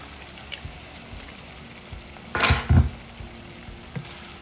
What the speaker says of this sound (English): And I'm just gonna let it simmer for a few minutes